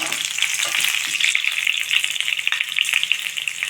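Chana dal and green chillies fry in hot oil, giving a steady, loud, crackling sizzle throughout with occasional sharper pops, and no voices over it.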